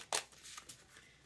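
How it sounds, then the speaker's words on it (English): A deck of tarot-style playing cards is shuffled by the sides, with a sharp riffle burst followed by a few soft, faint flicks and rustles close by in a quiet room. "I like shuffling on the sides of the cards because my hands are tiny"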